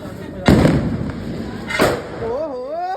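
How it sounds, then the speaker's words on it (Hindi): Diwali sky shot fireworks bursting close by, two sharp booming cracks about a second apart, each followed by a crackling tail, with a whistling rocket and voices in the background. "ये स्काई शॉट्स थे, ये एक स्काई शॉट था जिसमें से ये ऊपर जाने की बजाय नीचे ही आ गया था"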